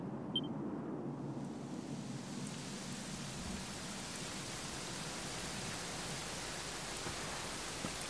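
Steady rain falls in a video game scene, a soft, even hiss that stays constant throughout at a low level, with no voices.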